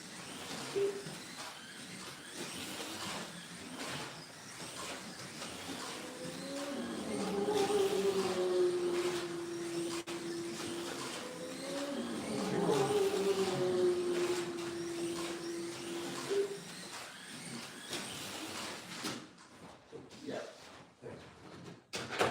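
A GT3 race car engine in a racing video game drones steadily and rises in pitch twice as the car accelerates, heard faintly under someone talking throughout.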